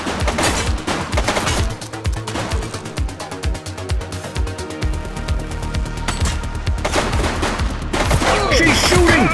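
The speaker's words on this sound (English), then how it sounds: "Shots fired!" Gunfire during a police shootout in The Precinct, dense rapid shots crackling over a busy street soundscape with loud bursts at the start and end, and game voices calling out in between.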